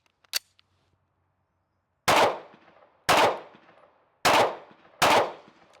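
Staccato pistol gunfire at a shooting range: one faint early click, then four loud, sharp shots about a second apart, each with a short decaying echo.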